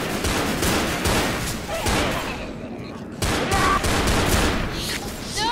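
Rapid, near gunfire from the co-op zombie shooter game Left 4 Dead 2, a loud sustained fusillade of repeated shots with a brief lull midway, mixed with players' voices.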